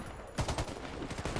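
Gunfire in the online shooter Warface, a quick burst of several sharp shots in close succession, heard loud and up front with no talk over it.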